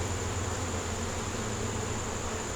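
Honeybees buzz steadily around a backyard hive, a dense, continuous insect drone that holds at an even level throughout with no voices over it.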